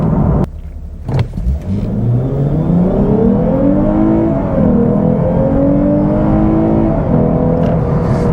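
A 2021 Lexus IS 350 F Sport sedan accelerates hard, its loud engine note climbing steadily in pitch, dipping briefly at a gear change, then rising again, heard close and without talk.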